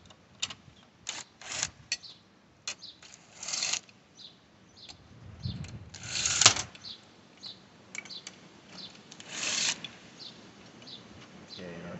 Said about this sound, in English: Okay, our valve cover is going to come off like that.